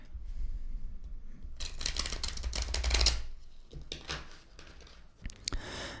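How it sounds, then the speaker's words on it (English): A deck of cards being shuffled in an ASMR session, a dense crackling riffle that builds, peaks and trails off, followed by softer card handling and a few sharp snaps, close and crisp with no talk. "shuffle the deck"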